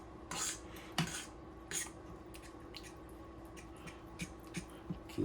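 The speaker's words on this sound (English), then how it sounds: "Keep whisking it together like that." Mac and cheese sauce being whisked with added milk in a pot, giving soft, irregular metallic taps and scrapes of a whisk at close range, with a few sharper clinks against a low background hum.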